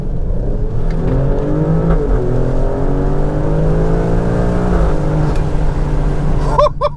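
Alfa Romeo Stelvio Quadrifoglio accelerating hard from 30 mph, its engine note climbing steadily and loudly through the revs from inside the cabin, with a brief dip near the end before rising again.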